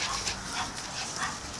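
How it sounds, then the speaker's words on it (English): A dog playing in a backyard gives a brief whimper and soft bark against a noisy, fairly close background. "He's a nice dog, he's a nice dog"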